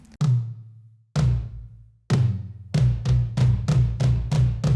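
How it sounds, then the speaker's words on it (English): Tom drum fill played on a pop/indie drum kit's toms, starting with a few spaced low hits and then speeding into a rapid, even run of loud, resonant strikes, each ringing with deep pitched decay, no voices. "I came up with this tom fill to pull us from verse 2 into chorus 2."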